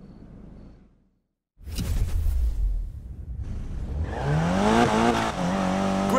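A car drifting in Need for Speed Payback, with a roaring engine that builds after a whoosh, then a long wavering tire squeal rising over the revving as the car slides.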